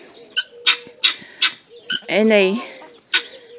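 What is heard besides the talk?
young guinea fowl calling in their pen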